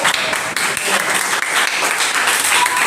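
A classroom of students breaks into steady, dense applause that holds at an even level for a few seconds, with a voice briefly heard over it.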